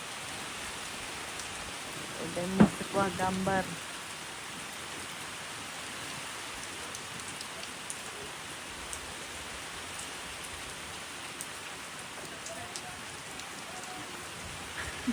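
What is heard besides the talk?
heavy rain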